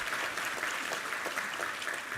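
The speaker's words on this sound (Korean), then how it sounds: "우리 하나님께 감사와 영광의 박수 올려드리겠습니다." A congregation at a Sunday worship service gives a short burst of dense, steady applause in praise and thanks to God, filling the sanctuary.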